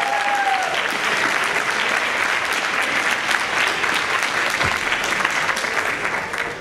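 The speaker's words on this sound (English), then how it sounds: "Give them a round of applause." Audience at a board of education meeting applauding performers: sustained, dense clapping from a room full of people, steady and fairly close, holding for several seconds before easing off slightly at the end.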